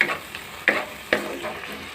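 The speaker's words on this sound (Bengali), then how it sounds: "এরপরে দিয়ে দেব হলুদের গুঁড়ো, নুন, ভালো করে কষিয়ে নেব এটাকে।" Prawn curry masala with turmeric powder and salt sautés in a pan, a soft continuous sizzle punctuated by two or three crisp spatula strokes against the metal, close and without voices.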